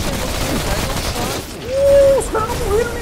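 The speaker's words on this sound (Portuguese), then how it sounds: "Eles estão atirando em mim mesmo deitado." Gunfire from the video game Remnant, a dense burst of shots with tonal weapon and effect sounds mixed in, while someone talks over the action.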